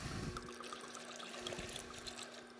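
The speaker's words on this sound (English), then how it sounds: "So now we're going to give a healthy shot of rum." Rum is poured into a piña colada mix made with pure coconut milk, a steady trickling stream of liquid running close and fairly soft for a couple of seconds, with a faint hum beneath.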